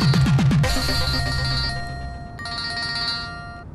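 A phone ringtone plays loudly and alone, a bright repeating melodic chime with sustained tones that rings on without pause.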